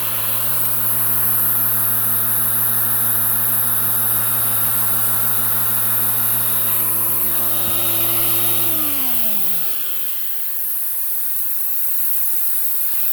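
A Filter Queen Majestic 360 vacuum cleaner runs with a loud, steady whining hiss and airflow roar, then its motor pitch drops sharply as it winds down and slows near the end.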